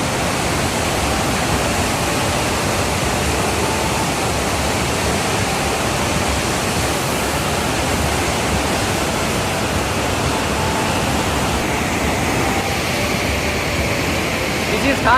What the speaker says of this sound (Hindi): आप पहले दर्शन कीजिए नंद प्रयाग से संगम का, अलकनंदा और नंदाग्नि के संगम का।